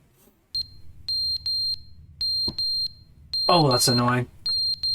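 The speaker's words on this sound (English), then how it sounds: "the smoke alarm batteries would be out by now" Short electronic smoke alarm beeps in a steady repeating pattern, high and piercing, with a person briefly speaking partway through, in the video game The Stanley Parable.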